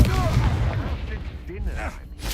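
A Confringo spell blast from the Hogwarts Legacy video game, heard among sharp, booming, gunfire-like impacts mixed with short spell-casting voice cries, all packed into about two seconds.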